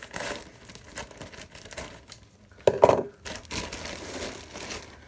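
Crinkling and tearing of plastic packaging as a large BooHooMan x Quavo clothing parcel is opened, with rustles and a louder crumpling burst midway, close and with no talk.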